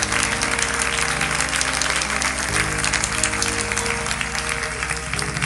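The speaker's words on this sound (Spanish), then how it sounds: "Si me entiende, dele un aplauso al Señor." A church congregation claps in unison, a dense, steady roar of hands over faint sustained low tones, holding strong for several seconds.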